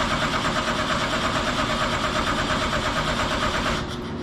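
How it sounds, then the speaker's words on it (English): A car engine is cranked by the starter with fuel and ignition disabled for a voltage drop test, giving a rapid, even, pulsing churn that never fires and stops just before the end. "We're going to crank the engine for about 5 seconds."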